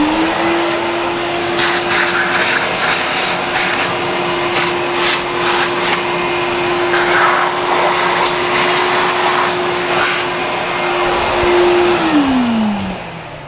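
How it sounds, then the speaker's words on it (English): A vacuum cleaner runs steadily in a workshop, a loud, even whine with a constant tone that winds down at the end as it is switched off, with occasional clatter from nearby handling. "Grab the vacuum."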